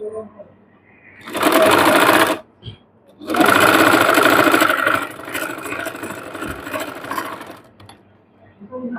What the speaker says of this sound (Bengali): রেখে এখান থেকে একটা সেলাই দিয়ে নিব।